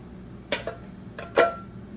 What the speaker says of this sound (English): Shake this water out of here.